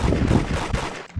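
Loud, rapid gunfire from a video game raid fills a short burst, shots crackling in quick succession before they cut off abruptly.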